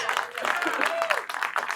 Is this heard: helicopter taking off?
no